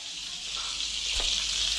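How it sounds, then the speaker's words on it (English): Redfin perch fillet sizzles steadily in a hot pan, a bright continuous hiss that swells slightly midway and keeps going without voices. "Just get it nice and sizzling away there."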